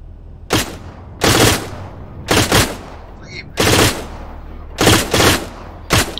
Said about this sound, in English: That sounds like a grenade launcher.